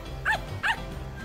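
A small family dog barks twice in the Crayon Shin-chan video game, two short clear yaps about half a second apart over a low steady game background.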